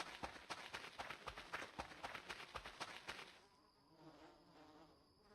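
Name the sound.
bees buzzing in video game Voices of the Void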